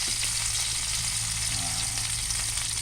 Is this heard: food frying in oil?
yes